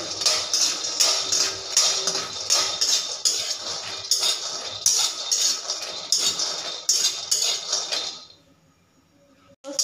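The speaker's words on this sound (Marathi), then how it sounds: "शेंगदाणे आपण व्यवस्थित भाजून घेतोय" Peanuts are dry-roasted in a pan while a spatula stirs them, giving a quick run of rhythmic scraping and rattling clinks that continues for about eight seconds and then stops.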